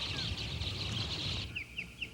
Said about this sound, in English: Prince William Sound, Alaska attracts millions of migratory birds, Canada geese, and masses of smaller birds